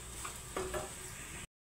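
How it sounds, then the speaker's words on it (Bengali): Food frying in oil in a home kitchen, a low steady sizzle with a couple of brief scrapes or stirs, then the sound cuts off abruptly. "আমি আরেকটা ভেজে নিচ্ছি।"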